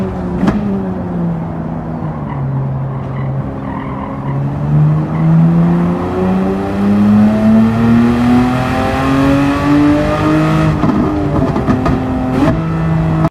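Race car engines roar in the Gran Turismo 7 video game, a sustained droning note that climbs steadily in pitch as the cars accelerate, with tire squeal and skidding and a shift in tone near the end, all without speech.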